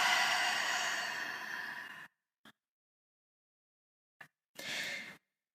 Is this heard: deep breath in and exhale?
yes